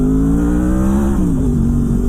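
A Honda VFR800 V4 motorcycle engine revs hard into its VTEC range on the road, a loud, close, sustained drone whose pitch climbs and then shifts partway through.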